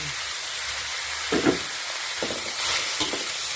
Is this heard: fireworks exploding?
no